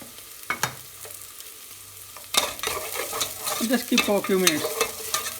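Onion and garlic frying and sizzling in a pan while being stirred, with clattering utensil scrapes and a soft sizzle building through the second half, a few spoken words near the end.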